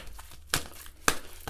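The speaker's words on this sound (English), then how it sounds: "now I'm just going to shuffle this tarot card" Tarot cards are shuffled by hand, giving several short, sharp riffling bursts a fraction of a second apart, close and fairly loud, with no talking.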